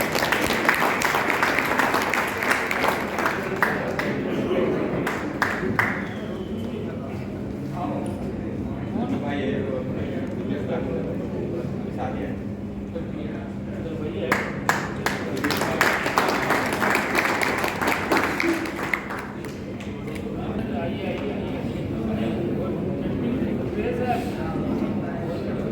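An audience at a farmers' fair breaks into loud clapping in two extended bursts, crowd applause rising and fading while an announcer speaks over a humming public-address system.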